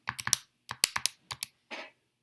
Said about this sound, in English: I'm going to just type that into my calculator, so I've got it.